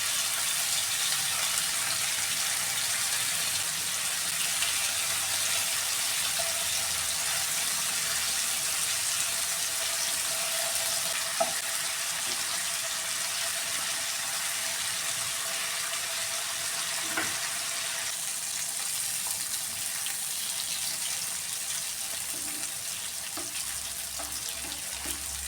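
Fish frying in a pan over a medium flame gives a steady, even hiss and sizzle that holds for the whole stretch, close and fairly quiet, with no voices.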